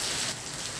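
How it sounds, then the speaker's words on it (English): Rain falls outside, a dense hiss of steady drops that fills the short moment. "I want to go outside and look at the rain, touch the rain, just enjoy the rain"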